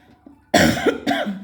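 Two quick, harsh coughs close to the microphone, one right after the other, in an otherwise quiet room.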